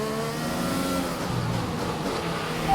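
Two Ferrari Formula 1 cars in the racing game F1 2021 scream down the start-finish straight, a steady, loud high-revving engine whine with layered harmonics that holds without a break.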